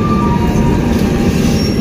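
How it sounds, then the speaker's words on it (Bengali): Lalkuan Express 12353 pulling out of Bareilly Junction station, a steady close rumble of wheels and carriages rolling over rail joints, continuous and loud throughout with a faint high whine above. "আমাদের train just Bareilly junction station ছেড়ে বেরোচ্ছে"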